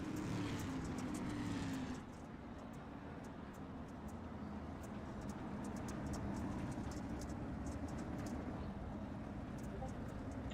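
Race cars in the iRacing sim roar steadily at a distance, a loud engine drone that dips after two seconds and then runs on as a continuous rumble, with faint clicks scattered on top.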